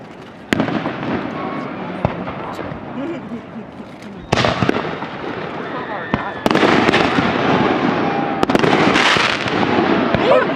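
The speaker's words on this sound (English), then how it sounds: "It's like who's doing the fireworks? They're doing fireworks." Fireworks burst over a lake during a dock party, delivering a run of sharp booms and crackling pops that build louder toward the end, with faint voices in the background.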